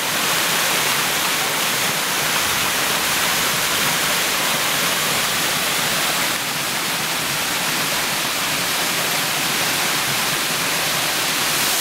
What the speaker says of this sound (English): The sound of rushing water.